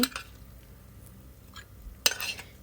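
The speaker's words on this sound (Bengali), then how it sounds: "এখন আমি সার্ভ করে নিচ্ছি" A spoon clinks and scrapes against a plate while serving coconut prawn curry, with a sharp clatter at the start and a louder burst of clinks near the end over quiet kitchen background.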